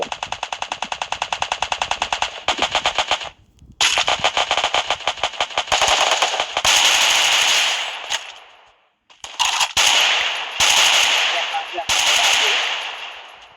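Rapid automatic gunfire in the Free Fire video game, several loud sustained bursts of fast shots with brief gaps between them, close and dominant.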